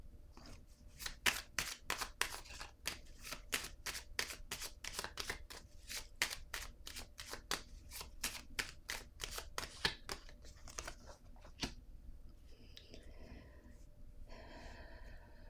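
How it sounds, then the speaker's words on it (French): Playing cards are shuffled and drawn at a table for a tabletop game, a long run of quick crisp riffling snaps close to the listener that gives way to softer rustling and a few faint breaths. "Je vais piger une autre carte pour danger."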